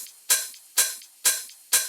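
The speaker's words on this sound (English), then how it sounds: "I also added some rides and some extra percussions." Ride cymbal hits with extra percussion in an FL Studio tech house track, four bright evenly spaced strikes about half a second apart, each decaying quickly, alone with no talking.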